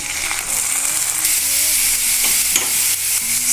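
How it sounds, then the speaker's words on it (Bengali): Fried onion with onion paste sizzling loudly in a pan while being stirred, a dense close hiss punctuated by spatula scrapes and a few brief tonal squeaks. "পেঁয়াজটা একটু ভালো করে ভেজে পেঁয়াজটা ভাজা হয়ে গেছে এইবার বেটে রাখা পেঁয়াজটাও দিয়ে দিচ্ছি"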